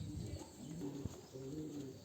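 A racing pigeon coos softly inside its loft, giving a few low, repeated throaty coos close by against quiet background noise.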